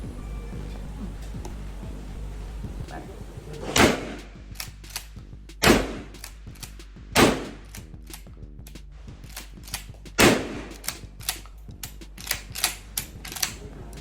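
An A-TAC FORCE gun fires at a target, sharp spaced shots cracking out one by one at irregular intervals, loud and close, with light mechanical clicks in between.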